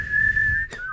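A single brief whistled note, clear and steady, held for under a second before sliding down in pitch, close and fairly loud.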